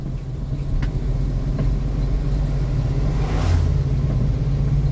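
A heavy truck tractor unit's engine rumbles loudly and steadily while accelerating, with a rising whoosh of the turbo building briefly partway through, close and continuous, with no talking.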